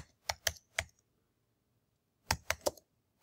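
Quick bursts of computer keyboard typing, three crisp keystrokes, a pause of silence, then three or four more, close and clear with no voices.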